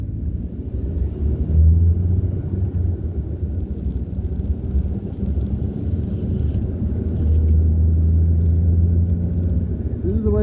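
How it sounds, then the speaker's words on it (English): A motorhome towing a truck drives along a road, giving a steady low engine rumble with road and wind noise throughout, swelling slightly near the start and end. "the motorhome, towing the truck."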